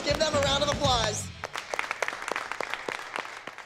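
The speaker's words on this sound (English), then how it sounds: "a round of applause" A dance competition audience bursts into scattered, lively clapping after a brief spoken announcement, the applause continuing steadily to the end.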